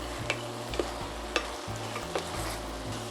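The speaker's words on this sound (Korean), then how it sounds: "이렇게 해서 이제 가지를 센 불에서 이제 이렇게 볶아줍니다" Eggplant stir-fries over high heat in a pan, with a soft continuous sizzle, a low hum underneath and a few scattered clinks of a utensil tossing the slices. No one speaks.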